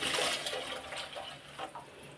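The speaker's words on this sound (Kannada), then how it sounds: "ನೀರು ಹಾಕು." Water pouring into a mixer jar while making chapati dough in a home kitchen, a short rushing splash that is loudest at the start and then tapers, with no talk.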